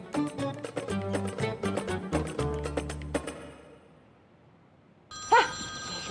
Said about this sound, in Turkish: Heh, telefon.